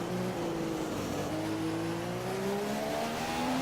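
A Formula 1 race car at the Chinese Grand Prix in a racing video game accelerates, its engine note climbing steadily in pitch through the gears, fairly faint and continuous with no talking.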